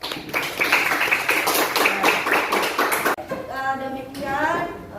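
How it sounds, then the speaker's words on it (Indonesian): A classroom group claps together after a discussion, with brisk, rhythmic hand claps for about three seconds, followed by voices talking nearby. "Beri tepuk tangan."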